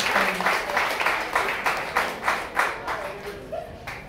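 A church congregation clapping in a steady rhythm, roughly two beats per second, loud and close, filling a worship gathering.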